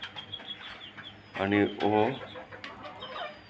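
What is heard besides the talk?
rooster crowing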